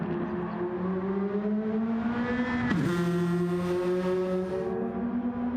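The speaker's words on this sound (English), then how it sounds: "Now we're looking at Cross's car crossing the finish line here" A race car in a racing game approaches and crosses the finish line with a loud, rising engine whine, then a sharp pass-by shift in pitch before the tone settles and carries on.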